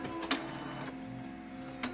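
A Fargo HDP6600 card printer with its rollers straining against film stuck to the card, giving a steady mechanical whir broken by sharp clicks and ticks near the start and end.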